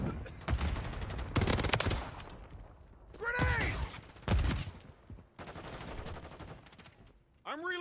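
Gunfire from Call of Duty MW3, with loud bursts of automatic fire and several heavy shots spread over the clip, among dense battlefield noise and voices shouting.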